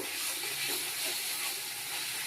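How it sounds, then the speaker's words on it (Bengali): A pot of rice boiling over, giving a steady, soft hiss of steam and bubbling froth at moderate distance, with no pauses. "এদিকে আবার ভাত উতলে যাচ্ছে"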